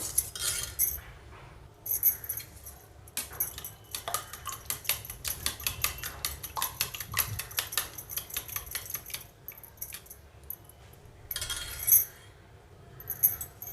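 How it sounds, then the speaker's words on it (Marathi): Spoon clattering against a bowl while eggs are beaten for anda bhurji, a quick home-style Malvani egg scramble; rapid, continuous clinking strokes close by, with brief pauses, and no talk. "आता फेटून घ्यायचं आणि हे सर्व फेटून घेते अंड आता"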